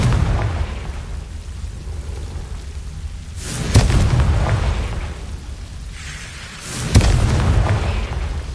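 Confringo blasting spells in Hogwarts Legacy burst twice with loud, close booms, each a sharp crack followed by a rumbling decay over steady game ambience.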